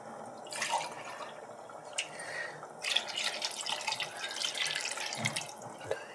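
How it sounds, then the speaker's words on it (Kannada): Water poured into a pot of mixed chicken biryani ingredients with yogurt in a home kitchen, a running, splashing pour in a few bursts, close and moderate, with no speech. "4 ರಿಂದ 5 ಲೋಟ ನೀರು ಸೇರಿಸಿಕೊಳ್ಳಿ"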